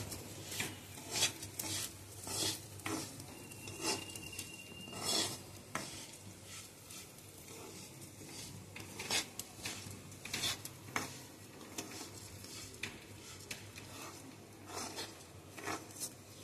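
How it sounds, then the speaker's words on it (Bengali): Raw rice being dry-fried and stirred in a pan for pulao, a soft continuous sizzle broken by repeated scraping strokes of the spatula against the pan at an irregular rhythm, close and alone. "এবারে আবার আমি চালটাকে একটু ভাজা করে নিচ্ছি।"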